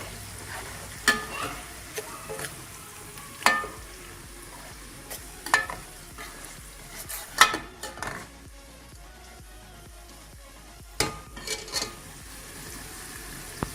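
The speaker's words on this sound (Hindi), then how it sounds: "ये ऐड करने के बाद आपने इसको थोड़ी सी देर फ्राई करना है, तकरीबन 1 से 2 मिनट इसको भी फ्राई करना है।" Ginger frying in a pan for an aloo palak dish, a steady sizzle throughout with repeated sharp scrapes and clinks of a utensil stirring against the pan.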